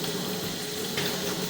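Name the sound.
water running down a drain line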